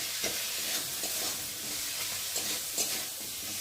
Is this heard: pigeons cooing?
no